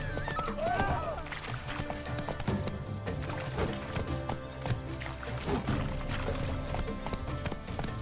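Roach, a horse in The Witcher 3, gallops with rapid rhythmic hoofbeats under dense, continuous game music and ambience.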